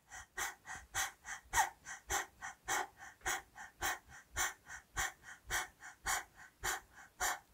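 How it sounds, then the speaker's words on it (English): Forceful rhythmic breaths from a fire breathing exercise with the tongue out, about two per second, each a sharp huffing exhale repeated steadily and close up with no speech. "do exactly the same fire breathing as you did looking straight"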